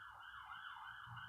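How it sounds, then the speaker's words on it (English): An ambulance siren wails continuously outside, its pitch sweeping up and down in a steady cycle, fairly loud and alone with no talk. "Thanks, ambulance."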